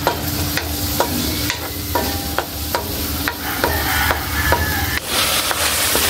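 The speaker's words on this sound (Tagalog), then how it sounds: "So, haluin na po natin mga idol." Pakbet vegetables are stirred in a sizzling pan, with sharp, regular scrapes and knocks of the spatula about every half second over a steady frying hiss and no speech.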